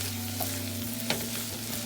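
Vegetables being stirred in a pan with poultry seasoning, a soft steady sizzle of frying running throughout, with a brief spoon scrape near the middle and no talking.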